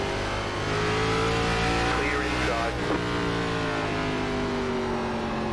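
A race car engine in iRacing NASCAR, ARCA Series at Langley Speedway, a loud steady droning roar with rising and falling pitch as it runs near, continuous throughout.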